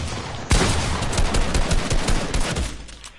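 Gunfire from the Fortnite video game bursts in loudly after a brief quiet start, a rapid volley of shots blending into a dense, sustained crackle that eases off near the end.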